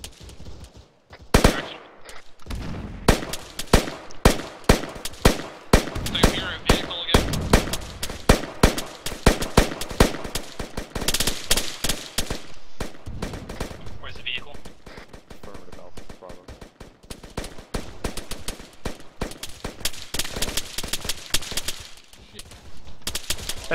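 Bursts of automatic rifle and machine-gun fire aimed at enemy contacts, loud, rapid and sustained, with overlapping shots from several guns near and farther off and brief voices cutting in between.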